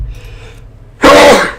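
A single loud, close sneeze bursts out abruptly after a few seconds of near-quiet room tone during a live software development session at a computer.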